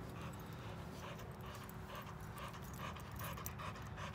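An American bully dog pants steadily and close by, with quick continuous breaths and a faint patter of movement behind it.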